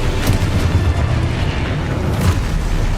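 A Confringo explosion spell in Hogwarts Legacy erupts as a loud, dense blast, followed by a continuous rumbling boom with a few sharper bursts.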